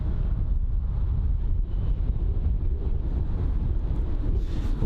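Strong wind buffets an outdoor microphone at London Heathrow airport, a steady loud low rumble with slight gusting throughout and nothing else distinct.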